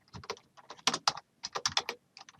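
Names typed on a computer keyboard in a brisk, uneven flurry of close key clicks with short pauses between words, crisp and alone with no talking.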